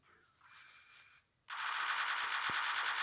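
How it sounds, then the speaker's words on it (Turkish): Minigun from a video game weapon mod opens fire on an iron golem, a loud continuous rattling burst of rapid shots that starts abruptly and holds steady, preceded by a fainter whirring spin-up with no talk. "Minigun denemek istiyorum arkadaşlar."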